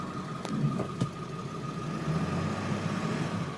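A 2001 Ford F-250 diesel 4x4 pickup idles steadily as it is shifted into drive, with a low rumbling engine drone and a couple of faint clunks early on, no talking.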